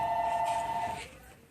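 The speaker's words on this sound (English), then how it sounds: "Adrian, can you hang up that phone for me?" A telephone rings in a room during printer cleaning, a steady bell-like tone sounding for about a second before cutting off, fairly loud and close with no talk over it.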